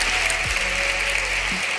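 Brief burst of audience applause at a policy speech, steady broadband clapping filling the whole moment with a low hum underneath and no voices over it.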